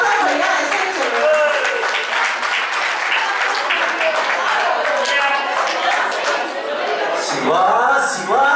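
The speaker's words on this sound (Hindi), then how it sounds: "इनके तो एक्सप्रेशन के लिए एक और जोरदार तालियां बजाएं।" An audience of housing-society residents claps loudly at a Shivaji Jayanti drama, a sustained burst of applause with chuckles, chatter and a voice speaking over it.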